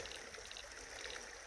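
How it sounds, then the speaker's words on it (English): Creek water flows in a continuous soft, even trickle and rush, fairly faint with no voices. "finally made it down to the creek."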